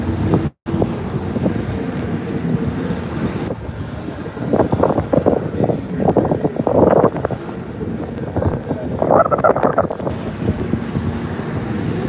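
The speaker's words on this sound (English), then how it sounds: "Nice wind, nice breeze." Strong wind blowing across a Formula Drift racetrack in New Jersey during warmup downtime, a steady loud rushing buffet on the microphone for the whole stretch, with brief gusty swells and no talk.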